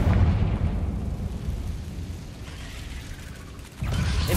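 Confringo blasting curse in a Harry Potter video game, a loud low rumbling burst that decays into a mechanical creaking drone before a second heavy impact hits near the end.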